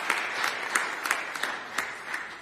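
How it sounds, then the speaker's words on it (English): Audience at a city announcement on anti-graffiti and beautification work clapping in a round of applause, moderately loud with a few sharper individual claps standing out from the steady patter. "Can we please give a round of applause to those two who worked extremely hard on these projects?"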